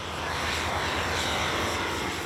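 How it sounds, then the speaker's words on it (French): A small two-seat propeller plane flies over the Mozambique bush, its engine a steady loud drone heard from inside the cabin, continuous and unbroken with no voices. "mais seulement 2 heures en avion."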